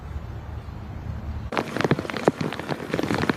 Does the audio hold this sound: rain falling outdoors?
yes